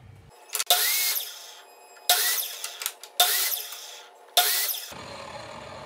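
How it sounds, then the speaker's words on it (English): A power saw cuts two pieces of wood, 2 inches by 3/4 inch, down to 8 inches long, in four short, loud bursts separated by brief pauses, with no talking. "I need to cut these two pieces of wood to 8 inches."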